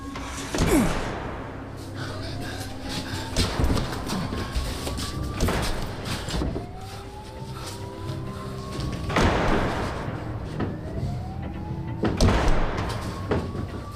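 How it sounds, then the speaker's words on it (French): A door is battered and forced open in a French action film scene, heavy repeated thuds and scraping impacts at intervals with rising creaks between them, loud and close amid tense ambience. "Enfoncez la porte, vite!"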